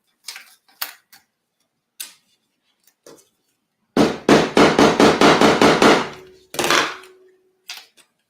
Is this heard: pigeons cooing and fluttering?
no